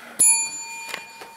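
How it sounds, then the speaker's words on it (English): A small bicycle-style bell is struck once, giving a loud bright ding that rings on with a sustained metallic tone, followed by a few faint taps in a quiet indoor room. "And I have to ring a bell."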